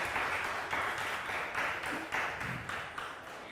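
Audience applause greeting five young girls as they come onto the stage at a children's performance, steady and continuous throughout at moderate volume.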